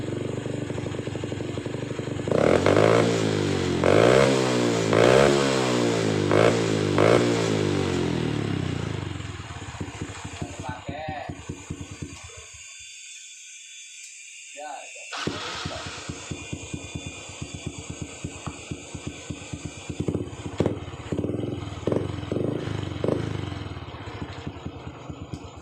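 A Honda Revo motorcycle with a modified exhaust revs up in rising pulses with a loud, throaty note, then drops to a rough, rhythmic idle and blips again; half throttle gives a round tone.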